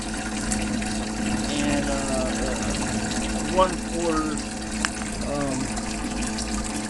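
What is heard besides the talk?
small water pump pumping water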